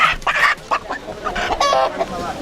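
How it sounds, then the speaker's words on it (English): A chicken bought at an Ethiopian market clucks loudly and up close in quick, agitated bursts, with little other noise around it. "We need a chicken."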